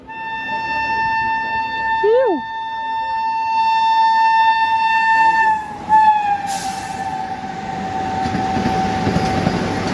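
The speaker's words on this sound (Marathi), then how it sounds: "Ajni Pune Vande Bharat express crossing" An Ajni–Pune Vande Bharat Express passes on a crossing at a station with a long, steady horn. Train noise builds behind it, and a brief sharp burst near the middle gives way to rushing wagon rumble as the train goes by.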